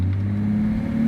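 A classic high-speed touring car accelerates hard in a fast takeoff, its engine a loud, steady close-up drone that holds strong for the whole brief moment.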